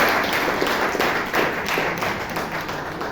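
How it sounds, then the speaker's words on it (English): A roomful of people at a Toastmasters club meeting in Bangalore applauds, steady close clapping with a few louder individual claps standing out, lasting throughout. "Please give them a big round of applause"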